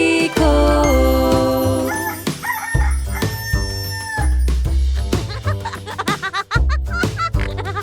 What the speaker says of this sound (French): J'écoutais le coq faire cocorico.